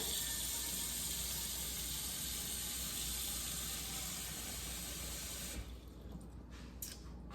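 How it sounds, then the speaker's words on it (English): Tap water runs steadily into a pan, a couple of inches' worth for a double boiler, as a bright continuous hiss and splash that cuts off near the end, followed by a few small drips and clinks. "I'm just gonna put a couple inches of water in this pan"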